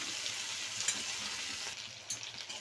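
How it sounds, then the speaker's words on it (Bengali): Jackfruit seeds stir-frying in hot oil give a steady, close sizzle with the soft scrape of stirring throughout. "দিয়ে ভালো করে নেড়ে চেড়ে ভেজে নেব"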